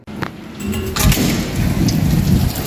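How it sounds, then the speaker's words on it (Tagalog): Heavy rain during a storm in Saudi Arabia, a loud dense downpour with low rumbling surges and a thumping burst near the start, building steadily and sounding close to the microphone. "So, unang nag-ulan dito, sobrang lakas guys."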